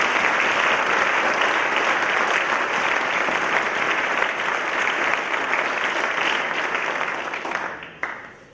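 Sustained applause from an audience at a high school athletics awards night, honoring two award recipients; steady dense clapping that fades out near the end.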